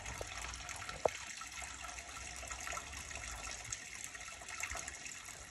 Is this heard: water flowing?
yes